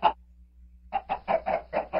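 Chickens in Minecraft cluck: one short cluck, then a pause, then six quick clucks in a steady rhythm, moderately loud over a faint low hum.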